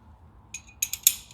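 Strut mount bolts on a KYB strut being tightened with a ratchet, a few quick, sharp metallic clicks close by over a quiet background.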